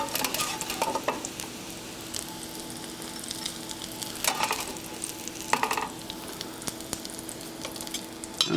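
Sweet potato pancakes fry in a pan alongside country ham, giving a steady close sizzle with occasional stirring and utensil scrapes, and no voices.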